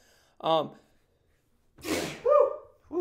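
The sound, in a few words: sneeze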